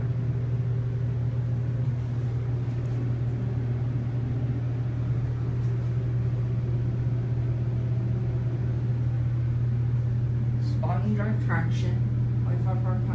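A Westinghouse bottom drive traction elevator in a downtown parking garage runs with a steady low machine hum and drone. A voice speaks briefly near the end.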